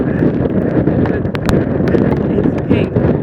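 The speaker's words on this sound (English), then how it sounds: "More sustained wind than I had during Sandy, definitely." Strong, sustained wind gusting at around 50 to 65 mph on Hawk Hill, San Francisco, roaring loudly and continuously into the microphone with heavy buffeting, while a person talks underneath.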